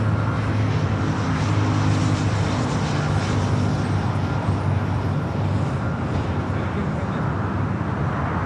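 Singapore Airlines jet taxiing toward a north side takeoff at Los Angeles International Airport, a steady broadband engine roar that stays loud and even throughout, with no voices.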